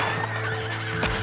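A horse in the video game Red Dead Redemption 2 gives a loud, close whinny over rhythmic clip-clop hooves, with no one talking.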